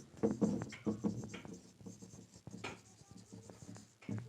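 Marker or chalk strokes on a board during a circle geometry lesson, a close series of quick scratchy writing taps and scrapes in an irregular rhythm, with no talking.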